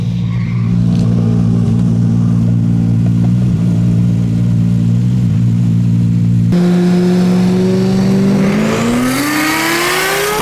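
A 550HP supercharged Ford FG XR8 at a Brisbane roll racing event, its engine droning loudly at steady speed and then climbing in pitch as it accelerates hard, close and continuous with no voices.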